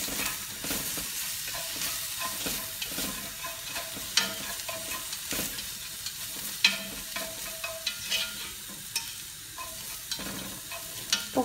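Food sizzles steadily in a cooking pot with chicken stock added, while a utensil stirs and scrapes through it in irregular knocks and clinks, close and fairly loud with no talking.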